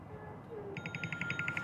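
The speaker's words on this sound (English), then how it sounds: "Is that your text message notification?" Phone text message notification chiming as a rapid run of evenly spaced bright electronic tones, quiet and brief, over soft background noise.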